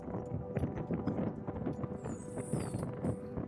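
Buffalo herd crossing a park road in Queen Elizabeth National Park, Uganda, heard as a dense patter of hooves on the ground with rustling and light wind, steady and fairly close.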